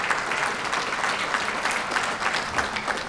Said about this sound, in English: A round of applause for the Islamic Society of South Australia again.